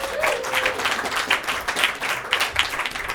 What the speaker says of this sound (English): one more round of applause for Mike, everybody